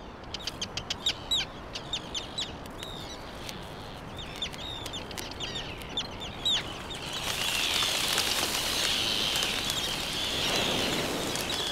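A seabird colony on a volcanic island keeps up clucking, chirping calls from many birds, sharp repeated notes at first, then a dense, rising wash of calls, some near and some far, with no talking.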